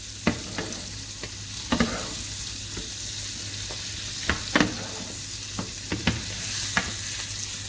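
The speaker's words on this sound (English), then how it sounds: "You can see the butter's bubbling away beautifully here." Butter bubbling and sizzling steadily in a hot pan while a steak is basted, with a continuous close frying hiss punctuated by sharp spoon clinks and spattering pops at irregular intervals.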